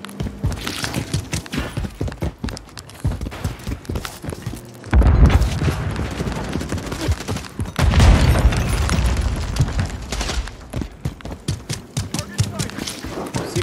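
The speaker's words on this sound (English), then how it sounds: "Grenade incoming!" Heavy booms from explosions in Call of Duty Modern Warfare 3 amid game action, two deep thumps standing out from clattering effects while voices talk throughout.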